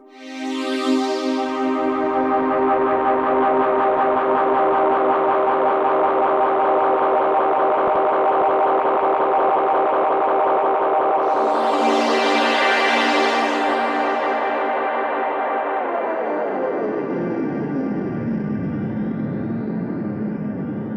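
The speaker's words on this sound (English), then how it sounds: "I did notice though that the tape echo does the tape echo thing." A Cherry Audio Korg Trident synth plays a sustained chord through its tape echo effect. The dense, loud tone swells and repeats, then its pitch sags and bends downward near the end. No voices are heard.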